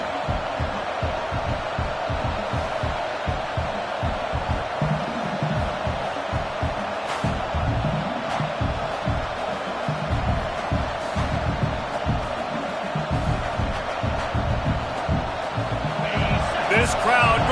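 Stadium crowd roar from the NCAA College Football 25 video game swells as a steady, loud background wash, with play-by-play commentary talking over it throughout.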